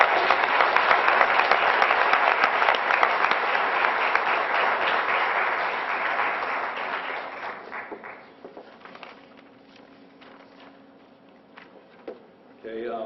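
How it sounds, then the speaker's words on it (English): Audience at a school board meeting bursts into a round of applause, loud and dense at first, then thinning to scattered claps over several seconds before a voice returns at the end. "So let's give her a nice round of applause."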